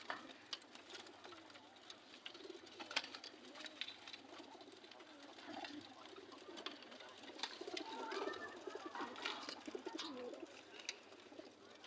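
Pigeons coo softly inside a pigeon house, with repeated low throaty coos and faint rustling and fluttering throughout, fairly quiet and without talk.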